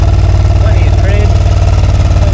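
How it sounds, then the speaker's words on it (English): A first-generation Suzuki SV650 motorcycle engine, prone to a misfire, idles loud and close with an even, rapid throbbing pulse throughout. "The idle settles down."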